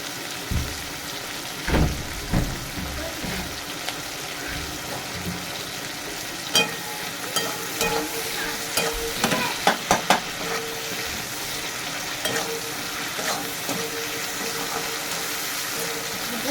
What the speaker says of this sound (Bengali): লবণ দিয়ে ভেজে নিয়েছি একসাথে